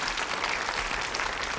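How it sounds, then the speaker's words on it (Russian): Studio audience applauding on a televised quiz show, a steady, dense burst of clapping from a full room, close and continuous with no talk over it. "Мама, пожалуйста, аплодисменты команде Зотовых."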